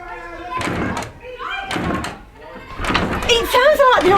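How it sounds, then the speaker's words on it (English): People break down a wooden door with heavy thuds and slams in a dramatized period scene, mixed with voices talking over the impacts. "It sounds like they are breaking down the door."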